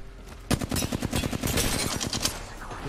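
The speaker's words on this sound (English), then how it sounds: "We're getting shot by the other team." Rapid automatic gunfire from an opposing team in the Apex Legends video game, a dense burst of sharp repeated shots starting abruptly and rattling on steadily, loud and close, with no talking.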